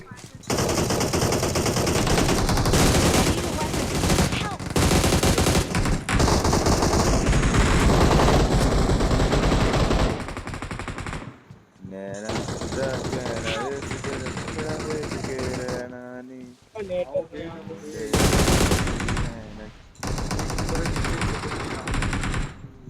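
Rapid automatic gunfire bursts in the BGMI battle royale game, loud and dense for long stretches with brief pauses, a player's voice talking over parts of it.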